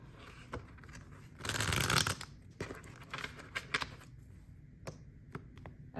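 Close-up shuffling of a pocket-size tarot deck, with a dense riffle of cards in the middle and scattered crisp card taps and slides around it, quiet overall.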